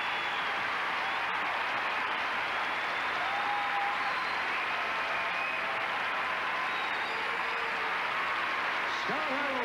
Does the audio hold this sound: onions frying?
no